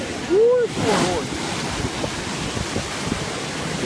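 Sea surf at Quất Lâm beach rolls in with a steady roar under heavy wind buffeting the microphone. A person briefly calls out over the waves early on.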